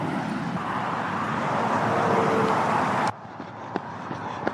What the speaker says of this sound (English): with all that traffic noise.